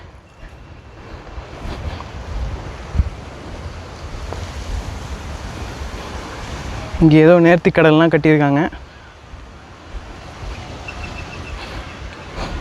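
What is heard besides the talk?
wind blowing by the sea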